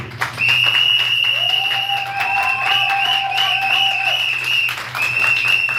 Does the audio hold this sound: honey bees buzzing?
no